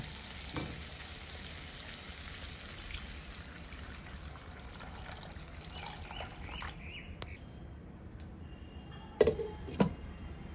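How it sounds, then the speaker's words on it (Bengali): Water poured onto sizzling mutton masala in a pan, giving a soft steady sizzle and trickle with a couple of sharper knocks near the end, fairly quiet and without talk. "এবার এখানে আমি জল দিয়ে দেব।"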